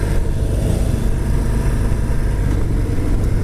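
A 2018 Harley-Davidson Fat Bob with a 107 cubic inch engine rides along, its engine giving a loud continuous rumbling drone with wind rush, steady throughout and with no talking.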